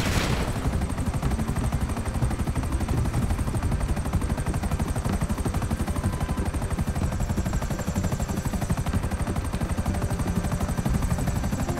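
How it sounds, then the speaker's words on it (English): Helicopter rotor in the video game GTA 5, a steady rapid chop running loud and unbroken throughout, with dense gunfire-like bursts mixed in. "I got a helicopter."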